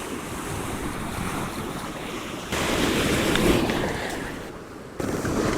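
Sea waves washing against a rocky coastline with a beach, a loud continuous roar of surf mixed with gusty wind buffeting the microphone, surging in louder bursts.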